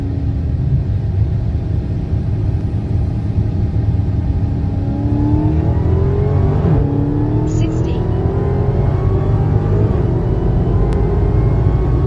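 A Dodge Charger Hellcat accelerating while in cat over-temp protection, the engine's rising drone loud and continuous with a faint gear change midway, heard from inside the car.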